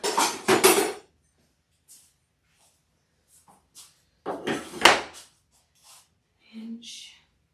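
Clattering of metal tools being rummaged through a workshop drawer while looking for a square, coming in short close bursts of rattling and clinking with quiet gaps between them.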